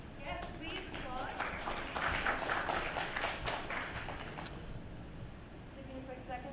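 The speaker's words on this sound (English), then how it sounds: "Yes, please, applaud." Applause from a marketing conference audience, a dense wash of clapping that swells and then tapers off over several seconds, with faint voices mixed underneath.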